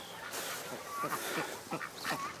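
Several Duclair ducks quacking nearby in a quick run of nasal calls, one overlapping another.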